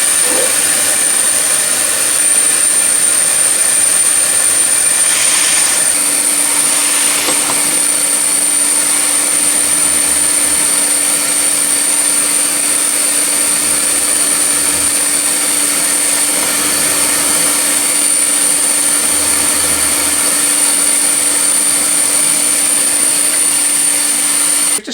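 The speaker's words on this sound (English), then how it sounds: "I'm going to turn on the extractors, put on my dust mask, and we'll start to cut." Workshop dust extractor roaring steadily for a long stretch while moisture-resistant MDF is cut, a loud constant whining drone with a high tone on top and no speech.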